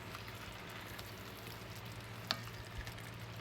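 Curry chicken fries in a pan with no liquid added, a faint, steady sizzle with a couple of soft stirring knocks, no voices.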